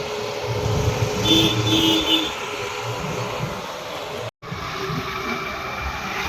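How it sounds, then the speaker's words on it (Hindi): A scooter ride through busy traffic at the Sadar crossroads in Mathura, India, with continuous engine drone and wind rush, passing vehicles, and a brief horn tone early on. "तो हमारे स्कूटर पे हम बैठ के चल रही हैं"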